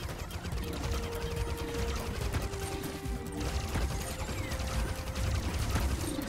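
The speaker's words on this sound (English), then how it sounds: "Thermal shock explosion." A thermal shock explosion in a video game, set off by combining ice and fire effects, produces a continuous crackling, burst-like din layered with tonal game effects, moderately quiet and with no one talking.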